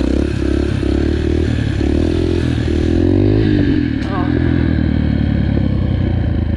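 A motorcycle engine drones loud and close during a wheelie ride, its pitch rising and falling with throttle changes, while someone talks over it.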